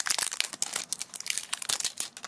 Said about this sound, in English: Let's unwrap it so we can see the marking better.